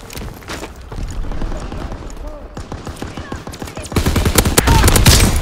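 Loud, rapid gunfire in Call of Duty WW2 War Mode, overlapping machine-gun bursts and single shots fired continuously, swelling to a heavier barrage toward the end.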